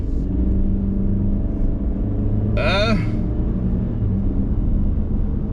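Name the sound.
Chevy Spark car engine while driving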